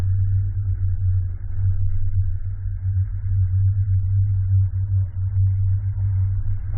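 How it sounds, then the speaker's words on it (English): A car towing a Malone EcoLight trailer rolls slowly around a parking lot, its low engine hum steady and droning with mild rises in revs, heard from inside the vehicle and without speech. "I'm going to drive around the parking lot and see how it performs"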